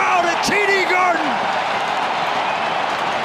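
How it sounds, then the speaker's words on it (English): Arena crowd at TD Garden in Boston roars through a hockey fight, a dense continuous wash of cheering and shouting, loud and steady throughout, with a brief voice rising over it near the start. "Listen to the crowd at TD Garden."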